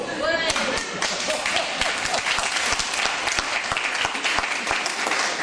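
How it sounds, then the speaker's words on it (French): A crowd at a political rally meeting applauds loudly and densely, a continuous wash of clapping with scattered thumps, filling the hall without a pause. "Et vous applaudissez ça."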